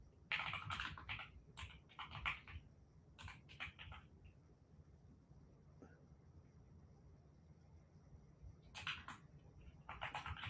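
Bursts of typing on a computer keyboard as a search query is entered, quick clustered keystrokes in several short runs separated by pauses, close and moderately loud over a low room hum.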